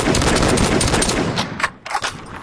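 A gold P90 submachine gun fires a rapid, loud burst in the VR battle royale Population: One, the chatter of shots running about a second and a half before breaking off into a few scattered final pops.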